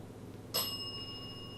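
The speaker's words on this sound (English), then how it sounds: "Set off that call bell twice." A single bright ding from a call bell during a ghost hunt at the 1858 Garnett House Hotel, struck once and ringing out briefly over a quiet room.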